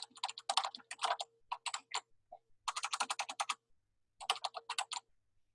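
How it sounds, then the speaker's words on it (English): Quick bursts of keystrokes clatter on a computer keyboard while a name is typed into a spreadsheet, close and crisp, in several short runs separated by brief pauses. "Just type your name."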